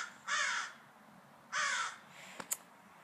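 Two loud, harsh caws from a nearby crow, spaced about a second apart, followed by a couple of faint clicks in an otherwise quiet outdoor setting.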